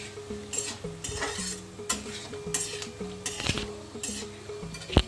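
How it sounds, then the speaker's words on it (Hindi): Cashew nuts frying lightly in a pan over a medium flame give a gentle, steady sizzle punctuated by repeated scraping and clinking of a spoon stirring them, with no voices. "बहुत हल्का फ्राई करना है जिससे कि काजू का कलर थोड़ा गोल्डन हो जाए हमें इसे एकदम मीडियम फ्लेम पर फ्राई करना है"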